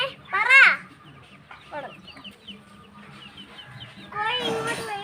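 Chickens kept at a home among pets and plants cluck in two clear bursts, one near the start and a busier flurry at the end, with softer calls and background noise in between.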